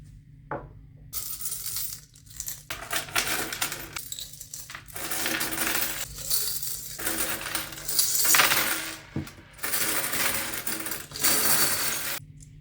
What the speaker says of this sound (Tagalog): Magbilang na naman tayo ng barya para umpisahan na naman natin mag-ipon.